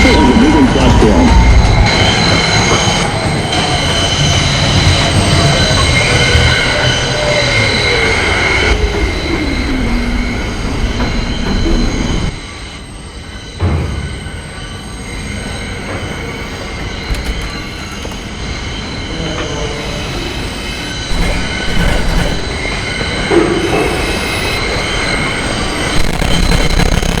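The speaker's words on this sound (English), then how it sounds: "This is a Brooklyn-bound 4 express train." A Brooklyn-bound 4 express on the New York subway, R127/R132 cars, pulls into a station with loud grinding rumble and rising squealing wheels, then briefly goes quiet before clattering rolling noise resumes.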